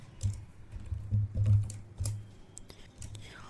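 Typing a command on a computer keyboard, with quick irregular key clicks and taps close up, steady for a few seconds and then tapering off, with no talking.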